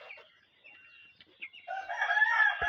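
A rooster crows on a mixed farm with broiler chickens and ducks, a single clear, fairly close cock-a-doodle-doo that rises and holds toward the end, with no talking over it.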